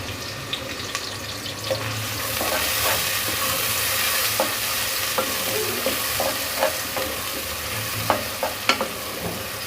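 Onions chopped omelette-style sizzle and fry in a pressure cooker for a spicy desi tinday curry, a steady hiss with occasional scrapes and stirring knocks.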